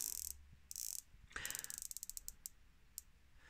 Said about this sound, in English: The bezel, lovely solid crisp noise coming off that.